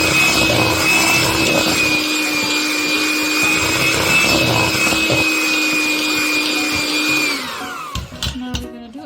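Electric mixer beating pound cake batter after eggs are added, a loud steady high whine with a low hum that runs continuously, then winds down and stops near the end, followed by a few knocks.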